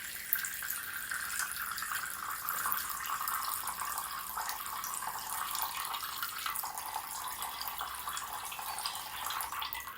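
Steady water pours continuously into a container with a bright, splashing hiss that stays even throughout, with no voices.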